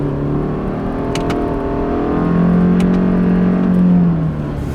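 A 2019 Subaru Outback with a manual transmission pulls away in first gear, its engine drone holding steady and then swelling louder as revs climb midway, with a few faint clicks on top.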